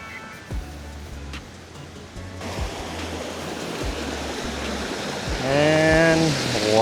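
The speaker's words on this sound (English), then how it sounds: "Waterfall from the top." A waterfall seen from the top roars as a steady broadband rush. It swells in after a quieter opening with a few knocks and grows slightly louder, and a voice speaks briefly near the end.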